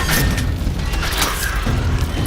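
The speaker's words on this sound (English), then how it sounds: "I'm gonna bring out the big gun for this one" A big gun firing in the Silent Hill 2 Remake, a dense, loud booming blast that fills the clip with rumbling low-end noise and no speech.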